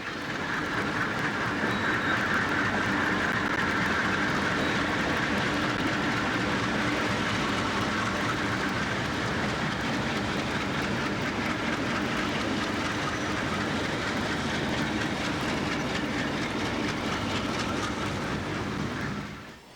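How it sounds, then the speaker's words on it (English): A Detroit Edison coal train with mid-train GE U-30C diesel locomotives rolls past in 1994, a continuous loud rumble and roar with a steady wash of wheel noise throughout, no voices. "Three more Detroit Edison GE U-30Cs provide the mid-train power."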